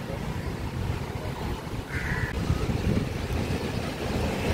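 Rainy seafront with waves rolling in, heard as a broad continuous wash of surf and rain noise, buffeted by gusty wind on the microphone, with a faint brief tone partway through.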